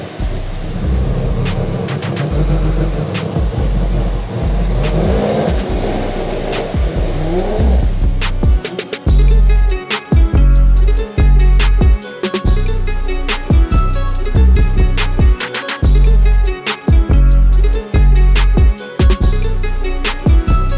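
1150 HP four-rotor Mazda RX7 rotary engine revving to 9,000 RPM, first a sustained high rising scream, then a long run of rapid sharp revving bursts with choppy cuts and pops, loud and close, no talking.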